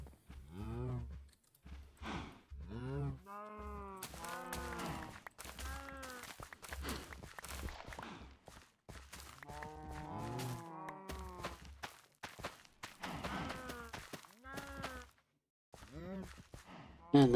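Cows in Minecraft moo over and over in low, drawn-out calls, several overlapping at close range, with soft footsteps in between.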